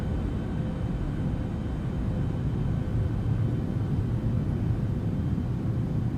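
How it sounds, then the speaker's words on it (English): An Embraer E-190 jet engine blast from a Mango Studios flight-sim soundpack: a steady, heavy, low roar with broadband hiss that holds constant and loud throughout, with no voices. "the jet blast does seem to increase"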